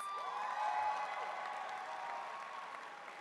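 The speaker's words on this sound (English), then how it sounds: "so that we can all applaud for you" A graduation audience applauds a drama department student at a 2025 performing arts school ceremony, a soft, distant, steady clapping that fades slightly toward the end.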